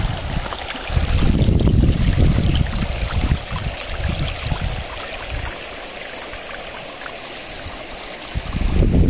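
Shallow, rocky river stream flowing near a bridge, a continuous rushing and gurgling wash with stronger surges at the start and end, no talking.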